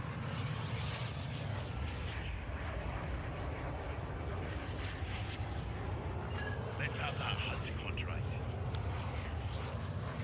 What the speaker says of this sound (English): I love how it goes slow mo sound when you're in front of the plane